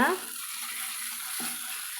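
Mushrooms and masala frying in a pan for a mushroom gravy, giving a steady, moderately loud sizzle with a brief stirring scrape near the start.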